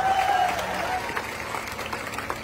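Audience applause at a Bangladeshi public gathering addressed by an MP, a steady wash of clapping heard from a crowd with a faint voice briefly over it at the start.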